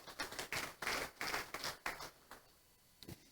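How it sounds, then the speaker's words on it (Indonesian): A church congregation clapping during a worship service: a series of sharp, fairly quick claps in an uneven rhythm, moderately near, thinning out and stopping before a final pair of claps. "Tepuk tangan buat Tuhan Yesus."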